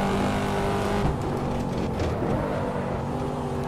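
A Corvette C7 Stingray in the Assetto Corsa racing game holds a steady, loud engine drone under acceleration, with a slight dip and rise in the middle and no speech.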